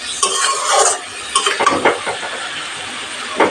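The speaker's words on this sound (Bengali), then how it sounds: "ভাজা আলু দিয়ে কিছুক্ষণ কষিয়ে নেব" Fried potatoes and spices stirred in a pan on medium heat for a shol fish curry make a loud, close sizzle, broken by repeated scraping and clattering strokes of a spoon against the pan, with no voices.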